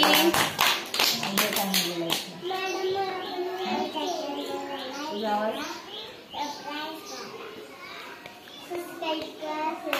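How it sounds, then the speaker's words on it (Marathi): A short burst of children clapping at home during a Marathi subtraction lesson, sharp and close at first, then giving way to children's voices talking and shouting. "टाळ्या वाजवा सगळ्यांनी त्यासाठी"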